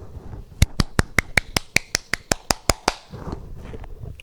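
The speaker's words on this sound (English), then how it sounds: "I'm gonna give you a hand clap" A dozen sharp hand claps in a steady, quick rhythm, loud and close, followed by a short stretch of quieter voices.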